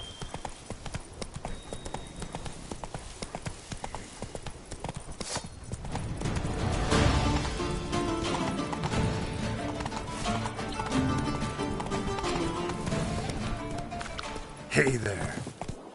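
Hooves clip-clop in a rapid gallop as the rider urges the horse on in The Witcher 3, a steady pounding rhythm that swells louder midway, with some game voice over it.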